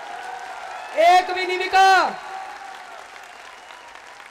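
Crowd at an open-air political rally at Jantar Mantar, Delhi, keeps up a steady wash of applause beneath a man's amplified speech, which rises in two loud bursts before the clapping continues alone.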